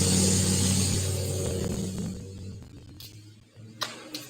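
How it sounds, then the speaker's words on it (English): Heavy trucks roll past outdoors, a loud low rumble that builds and then gradually fades away over a few seconds, with a couple of faint sharp clicks near the end. "Lots of huge trucks going by today."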